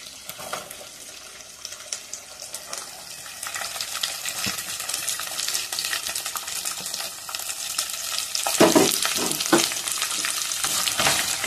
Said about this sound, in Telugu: హైలోనే పెట్టుకొని వేయించుకోవాలి ఉల్లిపాయలు